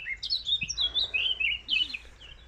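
Birds chirp and trill at Cecilly Brook Local Nature Reserve in Cheadle, Staffordshire, a quick run of bright, fairly close tweets in several overlapping bursts against quiet surroundings.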